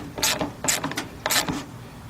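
A socket wrench ratchets three times in quick clicking bursts while a bolt is tightened on a 1992 Ford Ranger engine, heard close up with no talking.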